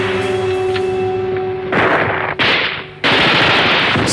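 Bursts of machine-gun fire and rifle shots from archival World War II footage of street fighting near a railway bridge on Klatovská Avenue in Plzeň, loud rattling volleys breaking in after a steady mechanical hum.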